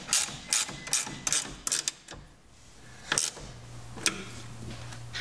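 A socket wrench ratchets a nut snug on a Bakflip G2 hard tonneau cover clamp, with quick bursts of clicking in uneven spurts, close and crisp, then a few single clicks.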